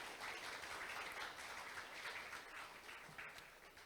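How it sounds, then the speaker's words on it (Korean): Audience applause for a speaker at a business forum, a steady wash of distant clapping from a conference hall, faint and continuous. "다시 한번 대한상공회의소 이상진 팀장님께 박수 부탁드리겠습니다."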